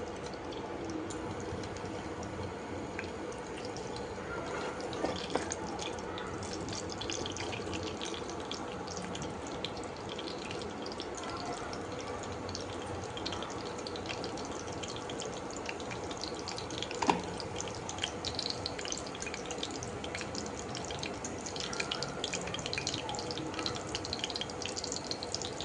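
Fennel seeds hit hot oil in a pan while cooking mutton eral muttai masala, giving a steady, close sizzling hiss. The crackle continues for the whole stretch with occasional small pops and no talking.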